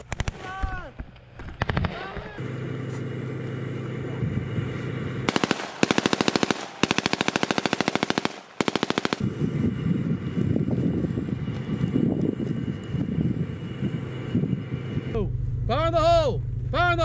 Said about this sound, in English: They were excited to blow and shoot live rounds